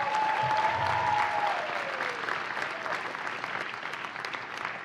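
Crowd applause for an award recipient at a university awards ceremony, a dense steady clapping that fades slightly, with a brief tonal whistle-like sound early on.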